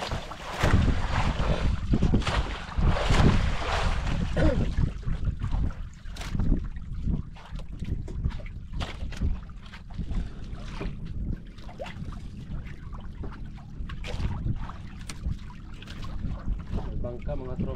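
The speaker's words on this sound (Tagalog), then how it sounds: "Bangka mga tropa. Pauwi na siguro yan." A boat passes on the open sea, its motor a steady, rough drone mixed with gusting wind buffeting the microphone and splashing water. Voices talk intermittently over it.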